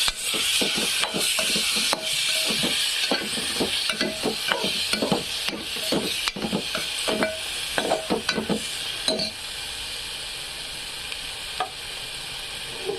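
Steady, close sizzle of chicken frying in a pan for biryani, with frequent scraping and stirring clicks; the stirring stops near the end while the sizzle continues.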